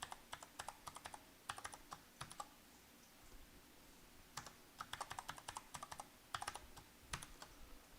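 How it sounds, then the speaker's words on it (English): Keys clatter as a password is typed on a computer keyboard while setting up a Windows Server. The bursts of clicks come in uneven clusters, close and fairly quiet, with no voice over them. "So I'm just going to type in a password here."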